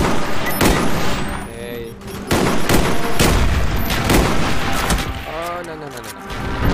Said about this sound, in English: Friendly mortars inbound.